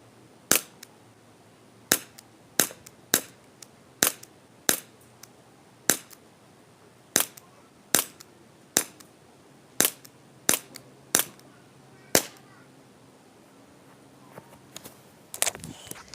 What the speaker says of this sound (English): To really test the strength, let's shoot it.